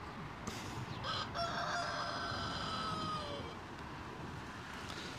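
A rooster crows once on a street, a long drawn-out call standing out over background noise, with no talking during it.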